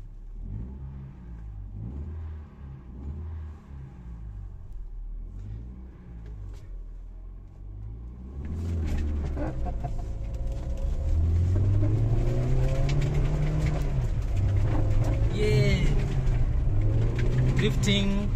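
A Mercedes-Benz 190E with a fuel-injected M102 engine conversion, drifting: the engine rises from a moderate hum to a loud, sustained revving roar with rising pitch, while a person talks.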